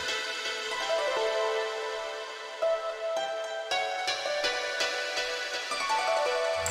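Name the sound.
harp from a free VST plugin, with panning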